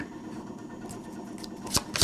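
Tarot cards shuffled by hand during a September 2021 Taurus reading, a soft continuous riffle with a few sharper card snaps near the end, close and fairly quiet.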